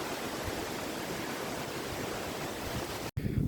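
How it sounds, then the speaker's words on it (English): Wind gusts through trees and leaves on Nandi Hills as a steady, loud, broadband rush, broken by a sharp dropout near the end. "You can just feel the wind gushing through the tree and the leaves."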